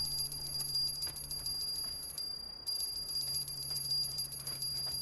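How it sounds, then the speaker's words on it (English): A bell rings in the video game Conan Exiles with bright, sustained tones that hold steady, cut out briefly partway through, then resume. "What is that bell ringing?"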